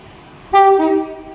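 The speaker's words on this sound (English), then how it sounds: "departing is going to be the 11:49 Virgin Pendolino service" A Virgin Pendolino passenger train departing Carlisle on the West Coast Main Line sounds a loud, close two-tone horn, a sustained higher note stepping down to a lower one, with quiet station ambience before it.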